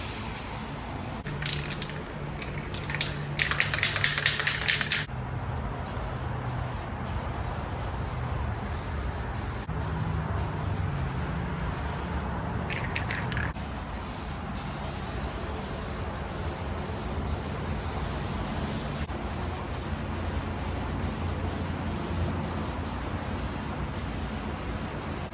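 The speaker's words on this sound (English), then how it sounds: "I'm just gonna start laying down some base coat" Base coat is spray painted onto a Yamaha F25 outboard cowling in steady hissing bursts, one louder near the start and others trailing off, with quieter background noise between passes.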